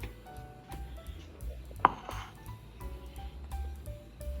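A knife cuts through rolled samosa dough with a single sharp tap against the board in the middle, amid quiet kitchen background noise.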